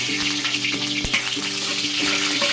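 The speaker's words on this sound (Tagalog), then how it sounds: "Siyempre, ikot natin ang bawang." Garlic sizzles steadily in hot oil in a home kitchen pan while a utensil scrapes and stirs it in a few distinct strokes, the frying hiss constant and fairly loud.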